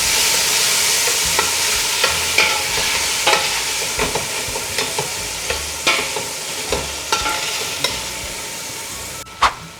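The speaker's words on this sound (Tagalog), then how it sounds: "Lagyan na natin ang ating sibuyas and kamatis. Sutay natin siya hanggang maluto yung kamatis." Onion and tomato sautéing in a pan for ginisang ampalaya, a steady broadband sizzle with repeated sharp scrapes and clicks of a spatula stirring, close and loud, ending in a louder clatter.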